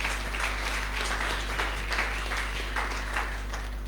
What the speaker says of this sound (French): Acclamons encore très très fort.